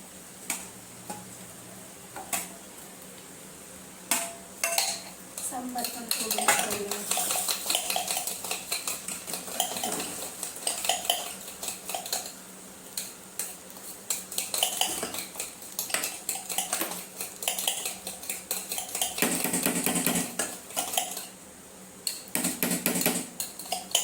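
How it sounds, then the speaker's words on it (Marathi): Eggs are stirred into a pan of spicy egg biryani, a metal spoon clinking and scraping against the cookware in irregular, close taps and bursts that go on throughout. "त्याच्यामध्ये अंडे टाकते मी आता"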